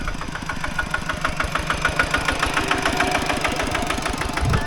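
Tractor engine running, a loud, close diesel chug with a fast, even knocking rhythm that holds steady throughout, no talking.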